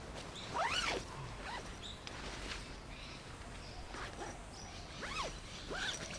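A bivy bag's sewn-on zip being pulled closed outdoors, with several short rasping zipping strokes in quick bursts over steady background noise, moderately near and fairly quiet.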